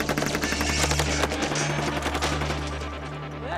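Rapid automatic machine-gun fire pours rounds into a car recreating the bullet-riddled Black Beauty, a dense continuous loud rattle of shots lasting the whole stretch.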